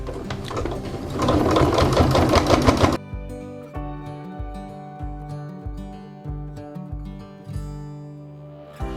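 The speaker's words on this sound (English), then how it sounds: "So then I'll stitch, and stitch slowly when you go through something like this." A home sewing machine stitches slowly along a denim jeans hem seam, a fast run giving way to a steady, close series of separate motor-driven stitch bursts.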